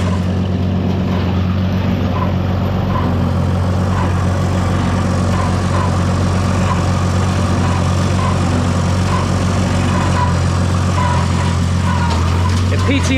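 A tractor mowing a backyard hay field around willow trees gives a loud, close, steady engine drone with a low PTO hum. The rumble stays constant for the whole stretch.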